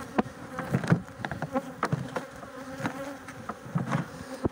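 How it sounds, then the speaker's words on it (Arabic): Honeybees buzz around an opened beehive, a close, faint, fluctuating drone with individual bees swelling past in irregular pulses, no voices. "ستبدأ الخلية في الحصول الآن على نحل"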